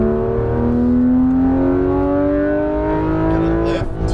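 A Porsche 911 GT3 RS of the 991 generation accelerates hard on a racetrack, its engine note climbing steadily in a loud, continuous, close-up roar from the cabin.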